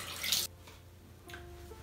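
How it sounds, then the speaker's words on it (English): Warm water from a bathroom sink tap runs and splashes as a face is rinsed: a short loud gush, a pause of quieter trickling, then the flow resumes softly, close by. "So now I'm going to rinse my face using warm water."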